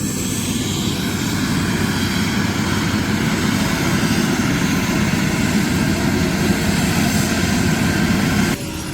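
Pankaja Munde's helicopter at a crowded political welcome, a loud, steady engine and rotor roar that continues unbroken before cutting down slightly near the end.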